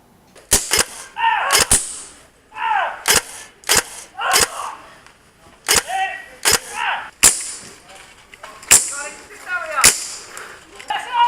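A Dan Wesson .357 Magnum revolver fired repeatedly, about a dozen sharp, loud, close cracks at an irregular pace, with people speaking between the shots.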